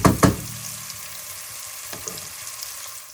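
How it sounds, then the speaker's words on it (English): Onions frying in a pan on high heat for a chicken potato salan, a steady close sizzle throughout, with two louder stirring bursts at the start and a few faint clicks later. "I'm gonna cook that on high heat. I'm gonna let the onions soften."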